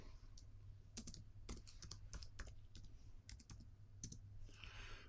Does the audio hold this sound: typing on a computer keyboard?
yes